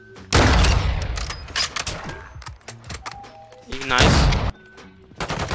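Bursts of gunfire in the shooter Modern Warfare 2, loud close shots in separate clusters with gaps between them, while a player talks briefly in between.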